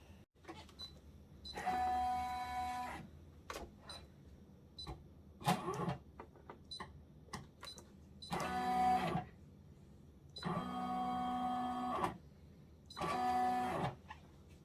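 A Brother embroidery machine with a fast frame set up for a jacket logo traces the design outline to check placement: several whirring motor runs of about a second each, separated by quiet gaps with short clicks and clunks.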